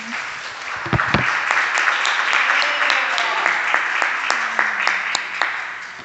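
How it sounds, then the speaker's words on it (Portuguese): Church congregation applauding during a service in Goiânia, Brazil: steady, dense clapping from many hands fills the room for several seconds, loud and sustained with a few sharper individual claps standing out. "Aplauda o Senhor Jesus pela vida do nosso candidato."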